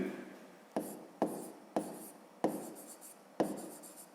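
Pen strokes scratching across notebook paper during a fifth-grade maths exercise, five sharp broadband rasps each fading out, close and quiet with no voices.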